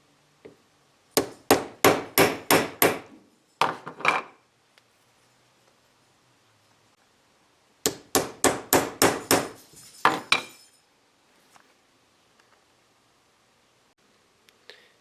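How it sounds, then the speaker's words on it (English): Hole punch struck by a hammer through gasket material, two bursts of about five sharp, evenly spaced blows each, loud and close, separated by quiet pauses. "Let's go ahead and punch that hole."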